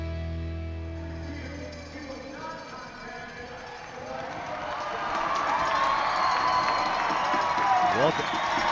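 Stadium crowd at a Sioux City Bandits versus Omaha Beef indoor football playoff game reacts to an overturned call, a broad roar building and swelling louder in the second half under a faint background tone.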